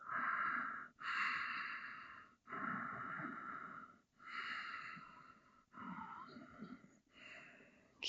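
Slow, deep breaths drawn in and let out during a gentle yoga stretch for back pain, several long inhale-exhale cycles close to the microphone, breathy and airy, with brief pauses between them.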